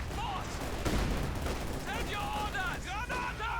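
Dense infantry gunfire with rifle and machine-gun bursts and grenade blasts from a Company of Heroes 2 online 2v2 match between Soviet and German OKW forces, a steady loud barrage of overlapping shots throughout.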